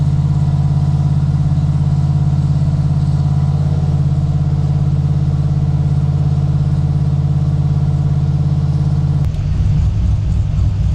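A 765-horsepower Ford Mustang engine on a dynamometer, tuned on pump gas with Holley EFI, idles in a loud, steady, deep rumble close by, then shifts to a rougher, lower pulsing near the end.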